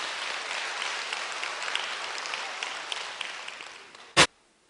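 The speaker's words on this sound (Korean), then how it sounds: "뜨겁게 박수로 격려해 드리겠습니다" A church congregation applauds warmly for its elders, a broad wash of clapping that slowly fades, then a single sharp knock or thump sounds just before near silence.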